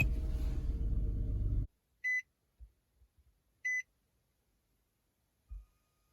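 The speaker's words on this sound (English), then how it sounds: "That beeping is kind of annoying" Boss BV775B car stereo head unit emitting two short, high electronic beeps a couple of seconds apart, with a few faint low thumps and handling knocks in an otherwise quiet space after a burst of loud noise.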